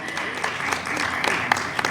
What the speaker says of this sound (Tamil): ஒரு பலத்த கரகோஷத்துடன் மேடை கழைக்கலாம்.